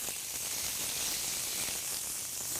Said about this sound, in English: you hear that sear? That's exactly what you want to hear when you're putting on the perfect burger on the grill.